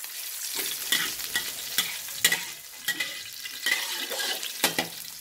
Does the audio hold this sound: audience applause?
no